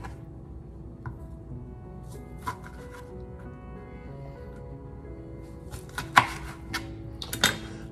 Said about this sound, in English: let me show you how I cut the oranges